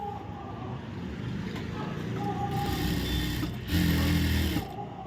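A sewing machine runs a straight stitch along a blouse back lining, its close mechanical hum steady at first, then growing louder and faster in the second half.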